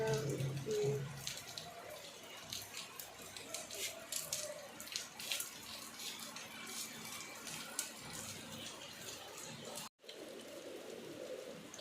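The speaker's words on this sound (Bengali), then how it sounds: "দেখো বৃষ্টি পড়ছে।" Steady rain pours down with a dense, even hiss of water that holds unbroken across the whole stretch, broken only by a short dropout near the end.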